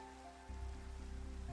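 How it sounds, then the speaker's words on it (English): Rain falling in Minecraft, a soft steady patter that swells slightly after a brief quieter start, with a low background hum underneath and no voices. "It's raining."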